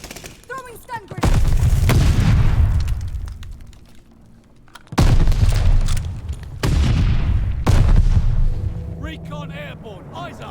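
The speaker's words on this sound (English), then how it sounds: "Throwing stun grenade." Stun grenade thrown and detonating in a shooter video game, several loud booming bursts in a row, each decaying slowly, with someone talking between and over them.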